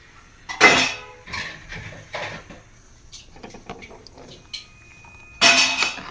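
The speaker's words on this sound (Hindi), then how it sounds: "और दीदी धो रही है यहाँ पे बर्तन।" Pots, pans and utensils are washed in a home kitchen, giving sporadic metallic clanks and clatters in short bursts, near and moderately loud, separated by quieter gaps.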